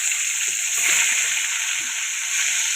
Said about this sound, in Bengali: এবারে আমি মাছগুলো আস্তে আস্তে ছেড়ে দিচ্ছি